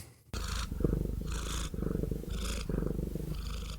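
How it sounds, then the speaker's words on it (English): A cat purring up close in a steady rhythm of pulsed breaths, loud and alone, each cycle a rumbling buzz. "I guess that's a cat sound."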